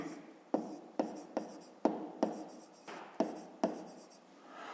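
Pen strokes on paper while an equation is written out, a series of about nine short scratchy strokes in an uneven rhythm, close and quiet, with no talking.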